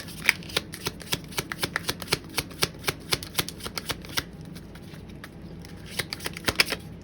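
Tarot cards are shuffled up close in a fast, even run of crisp riffling clicks, then a short pause and a few more snaps near the end, with no talking.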